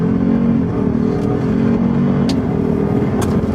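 A 2022 Ford F-150 Lightning electric truck accelerates hard from a standstill after a brake-torque launch, giving a loud, steady rush of motor and road noise with a few brief higher bursts.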